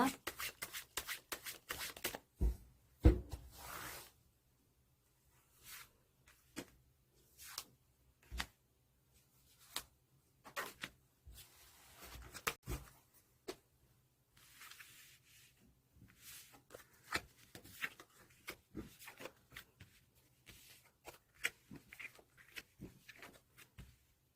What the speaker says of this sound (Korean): 다음 주 한 주간 나에게 필요한 조언 카드 펼쳐보겠습니다.